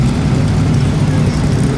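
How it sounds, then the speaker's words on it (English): BMW police motorcycle passing at a Pebble Beach concours, a loud, steady low engine drone close by, brief and continuous with a broad roar of road noise. "Well, there's the BMW police bike."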